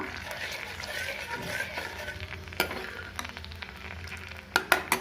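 Homemade coconut milk simmers down in a pot to release coconut oil, giving a soft bubbling sizzle with occasional utensil clinks and scrapes, close but quiet and mostly steady.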